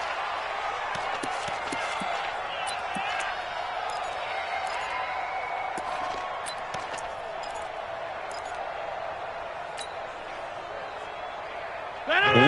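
A large video game stadium crowd roars steadily throughout during a football two-point conversion, with scattered claps and bangs, rising louder in the final moment.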